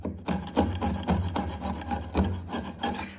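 Old flaking paint scraped off original door or window hinges in an old Italian house, a series of rough, rhythmic rasping strokes close up, repeated about every half second with no talk.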